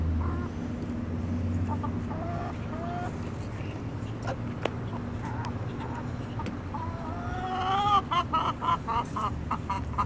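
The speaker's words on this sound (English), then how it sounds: "my son is totally training his chicken to walk" A backyard chicken clucks in short scattered calls over a low steady hum, growing busier and louder in the final seconds.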